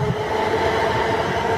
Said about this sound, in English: Next train to arrive in is to go leave is a 1420 London Midland service to Crewe, 350-376 I think.